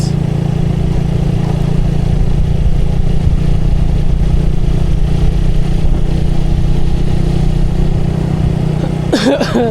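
Motorcycle engine droning steadily while riding on an open, scenic road, a constant loud mid-pitched hum with wind rush throughout and a brief clatter near the end.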